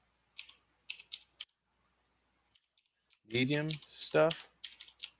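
Clicks from a computer keyboard come in short bursts of a few keystrokes at a time, close and crisp, with someone speaking briefly in between.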